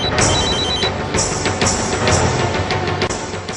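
A telephone rings in repeated bright electronic trills, loud and close, with the ring pattern continuing steadily for several seconds and nobody speaking.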